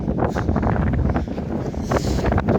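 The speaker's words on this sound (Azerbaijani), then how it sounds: "amma külək həqiqətən də çox güclüdür" Strong wind buffets the microphone beside a lake in the countryside, a steady loud roar and rumble with gusty surges throughout and no other sounds standing out.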